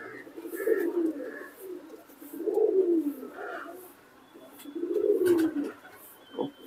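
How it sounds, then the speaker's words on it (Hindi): Dark-colored pet pigeons kept as a hobby in Jammu give low, rolling coos in three clear bouts separated by short pauses, fairly close and moderately loud, with no speech. "काफी अच्छे गहरे कबूतर"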